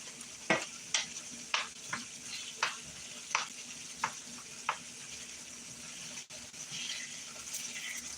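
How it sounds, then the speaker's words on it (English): Ground hamburger meat sizzles in a pan while a utensil breaks up the clumps, giving about a dozen sharp scraping clacks over a quiet, steady fry that turns into a fuller hiss near the end. "So right now I'm just breaking up the clumps and stuff in my hamburger."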